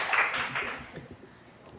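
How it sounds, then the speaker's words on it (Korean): A short burst of studio audience clapping on a Korean talk show, loud at first and then fading quickly, with faint voices underneath. "박수를 치실래요, 확실히"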